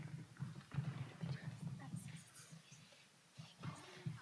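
A donkey's hooves clip-clop in a steady, uneven walking rhythm close by, with people talking over the steps and a short pause near the end.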